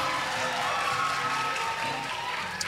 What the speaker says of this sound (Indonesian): Beri tepuk tangan yang meriah dong.